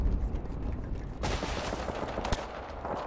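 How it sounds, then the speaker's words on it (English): Rapid bursts of automatic gunfire from an Apex Legends match crackle in close, sharp volleys after a quieter opening, continuing in dense clusters to the end. "Opening fire on the enemy."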